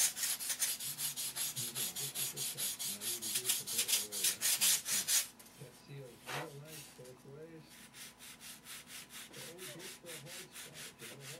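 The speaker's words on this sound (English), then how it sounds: "And you just sand right down to the rib," Sandpaper rubbing steadily over model airplane wing ribs and foam, a close, rhythmic back-and-forth scratching with even strokes, pausing briefly midway before resuming more softly.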